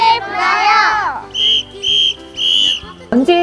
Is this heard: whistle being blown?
yes